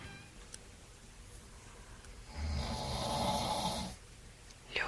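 A man snoring in bed, a single drawn-out, rasping breath rising mid-clip and fading after about a second and a half, close and fairly quiet against a soft room hiss.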